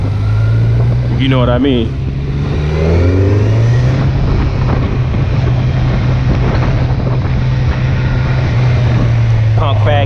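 A Kawasaki Z900 motorcycle hums at a steady, loud engine drone while riding, heavy wind buffeting the microphone throughout as the rider talks over it.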